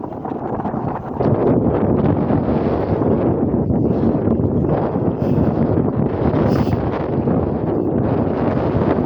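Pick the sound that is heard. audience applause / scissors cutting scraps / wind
wind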